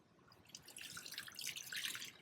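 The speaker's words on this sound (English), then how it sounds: "So fabric goes into the water." Tie-dye fabric being lowered into water brings faint dripping and trickling splashes that build gradually, fairly close and quiet, with no voices.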